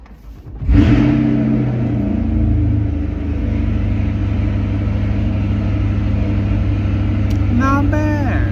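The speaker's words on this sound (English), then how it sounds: "Cold start inside the car." A Corvette C8 with its exhaust in fully open mode cold-starts from inside the cabin, bursting into a loud rev and then settling into a steady, deep, rumbling idle that continues throughout.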